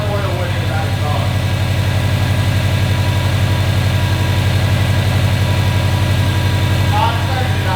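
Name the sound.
car engine idling with rattling heat shield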